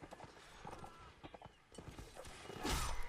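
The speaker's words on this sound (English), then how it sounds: "There's Random the horse." A horse gallops in the Mount and Blade Napoleonic Wars video game during a siege battle, quiet clip-clop hoofbeats mixed with battle noise and swelling louder near the end.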